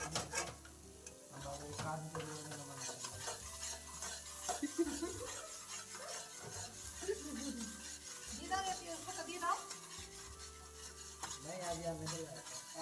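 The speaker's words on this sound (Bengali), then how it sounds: "কড়াইয়ের গায়ে লাগা, এগুলোকে ছুটিয়ে নিচ্ছি ভালো করে" A metal spatula scrapes stuck chhana bhujiya from the sides of a wok in repeated rhythmic strokes, clanking against the pan over a low sizzle.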